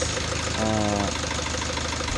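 A car engine idles steadily with one fuel injector cut off through a scan tool, giving a continuous mid-pitched running drone, with a brief tonal whine partway through.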